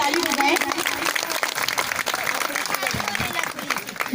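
A crowd claps at a live Bhim song performance in Narnaund, Hisar, Haryana, a dense, uneven patter of hands mixed with voices talking and calling over it.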